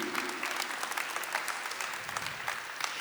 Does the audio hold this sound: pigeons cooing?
no